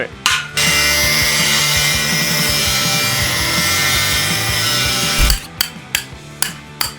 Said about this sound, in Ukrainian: А зараз спробуємо від ось цієї труби відрізати рівний кругляш.